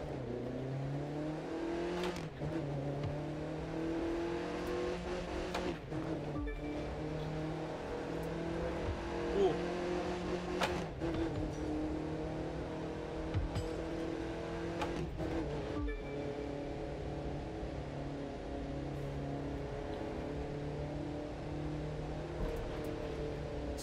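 A car cruises along a freeway in the video game The Crew 2, its engine droning steadily with rising pitch through the gears and brief breaks at the shifts, heard alone without talk.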